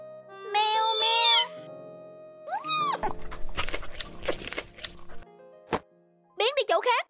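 Cartoon cat meows in bright, rising cries, one long call at the start and another near the end, with clattering effects and a brief bright yelp in between, in an animated fairy-tale scene.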